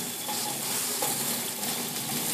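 Meat patties sizzle in a plain pan with no butter or oil, a dense, steady frying hiss held close and even throughout.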